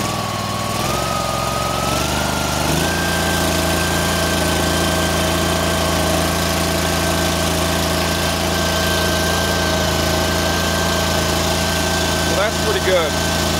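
A Cub Cadet 1440 lawn tractor engine idles steadily after electrical repairs, a loud, even mechanical hum that shifts pitch slightly early on, then holds constant at close range.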